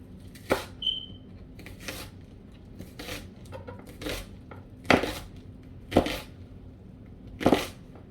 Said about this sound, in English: chopping these up, dicing these up